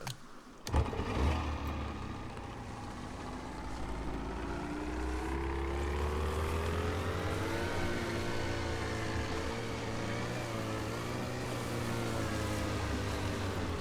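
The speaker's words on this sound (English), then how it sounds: "Let's put her into reverse. Start the engine." Boat engine in the video game DayZ starting up and then running steadily, a continuous low drone with a rising harmonic whine as it revs, loud and close with no talking over it.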